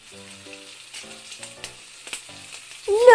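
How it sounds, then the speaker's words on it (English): Eggs fry in a frying pan, giving a soft, steady sizzle with faint crackles, heard fairly quietly alongside light background tones before a louder sound swells at the very end. "Dad cracks some eggs into the frying pan."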